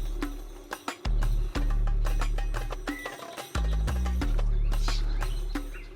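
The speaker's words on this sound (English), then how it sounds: "The yellow-breasted chat is currently my favorite bird song." A yellow-breasted chat sings in the open near Santa Fe, New Mexico, giving a series of sharp, separated calls and short notes in an irregular rhythm over a low steady background hum.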